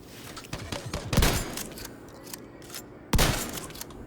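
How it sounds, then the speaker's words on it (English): Shotgun fire in The Division 2 during a PvP match: two loud, sharp blasts about two seconds apart, each with a short ringing tail, over busy game ambience and scattered smaller impacts. "So here we go with the shotgun."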